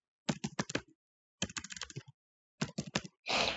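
Quick bursts of typing on a computer keyboard, three rapid clusters of crisp, close key clicks separated by pauses, ending in a louder thud-like press, with no talk.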